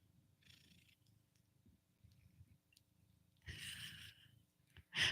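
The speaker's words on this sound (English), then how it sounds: "do you hear Mittens purring?" A cat purring close by, a soft continuous low rumble with brief breathy rustles toward the end.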